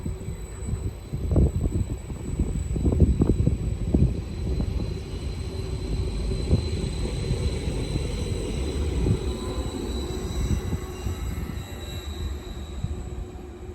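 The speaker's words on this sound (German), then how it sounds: "Der Metropolexpress fährt jetzt hinterher" A Metropolexpress regional train passes through Amstetten station, a loud, continuous rolling rumble with clattering wheels and a faint high whine, fading slightly toward the end.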